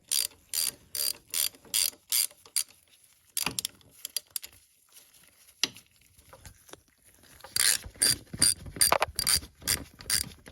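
A ratchet clicks steadily while bolts are tightened on the ABC pump of a 2004 Mercedes SL500 R230, giving bursts of rapid, close clicking that pause midway and then resume.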